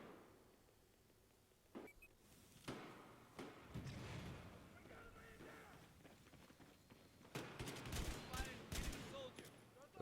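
Pistol gunfire from the video game Battlefield 4, with scattered shots and bursts of fire of varying loudness, mostly in the second half and against a steady game background.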